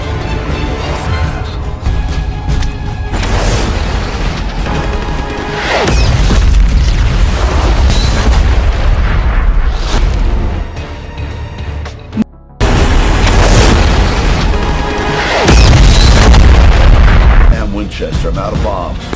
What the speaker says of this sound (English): an airstrike that literally saves his life